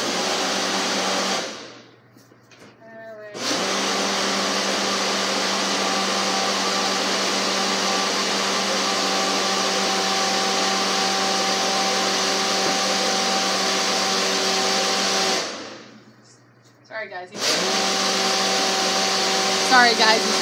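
A kitchen blender mixes a drink in the background during indoor Christmas tree decorating. It whirs steadily in two long runs, each starting and stopping abruptly, and stays moderately loud behind the room.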